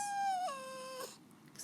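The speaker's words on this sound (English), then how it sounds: "Excuse my dog, he wants to play." A dog whimpers in a single drawn-out high whine that slides downward and then trails off, fairly close and alone, with a faint second whimper near the end.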